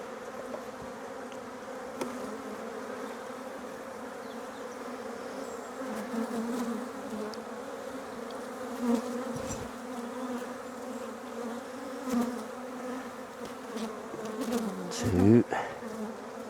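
Honey bees buzz in a dense, steady drone at an opened hive during a swarm inspection, with a few louder passes as individual bees fly close by.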